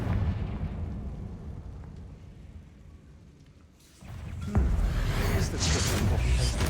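A Confringo blasting spell explodes in the Hogwarts Legacy video game, with a low rumbling ambience that dips and then a sudden loud burst at about four seconds, followed by a sustained roaring blast.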